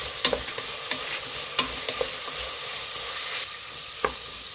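A spoon stirs chopped carrot and beans frying in a pan for bread pulao. Sharp scrapes and taps repeat over a constant sizzle, close and fairly loud.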